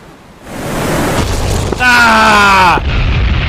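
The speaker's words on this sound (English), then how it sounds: "Yep, the missiles are going way too low. I think they're gonna hit the mountain." Missiles in the DCS World flight simulator hit a mountain and explode with a loud booming roar, followed by a bright whining sweep and rumble that cut off abruptly.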